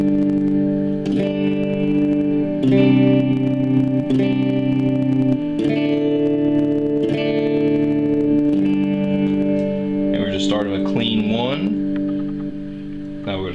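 Electric guitar run through a Boss ME-25 multi-effects pedal preset, with chorus, reverb and some grit on sustained ringing chords and picked notes, ending in a bend-heavy lead flourish, steady and up close.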